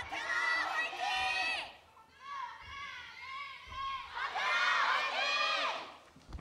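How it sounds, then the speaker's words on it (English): Esports crowd of Panthera fans at an Overwatch match in the 2018 Korea contenders league, loud cheering and shrieking swells in three bursts with a dip between, high-pitched voices prominent. "Here the Panthera fans finally really actually having something to cheer for after the first 2 maps."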